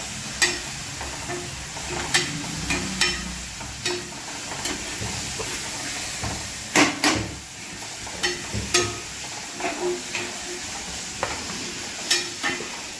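Prawns with garam masala stir-fried in a hot pan for a kolambi fry, a steady sizzle overlaid by repeated scraping clicks of a spatula stirring in an uneven rhythm, close and alone.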